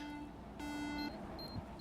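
Electronic beeping from a hostile drone closing in before it detonates in the sci-fi game Gravia, a steady tonal beep with a brief harmonic-rich burst, over a low game ambience.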